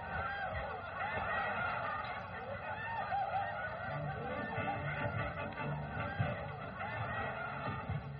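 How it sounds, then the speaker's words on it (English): Ducks honk over and over in a dense, continuous chorus of nasal calls, loud and busy, with a crowd-like murmur beneath. "Send up some more ducks."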